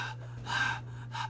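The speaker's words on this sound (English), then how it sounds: "You're hyperventilating here." A character in the stealth video game Mark of the Ninja gasps in rapid, sharp breaths, three quick bursts over a steady low hum.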